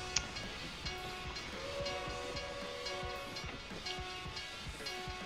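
Distant train in the Final Fantasy XIV Rival Wings game, a steady rolling rumble with faint horn-like tones carrying through the whole stretch, no voices.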